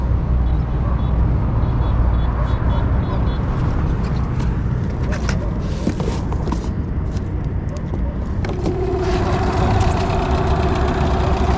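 A car engine with trouble cranks and runs, a steady rough mechanical drone throughout, with a tonal whine coming in near the end; a person talks over it.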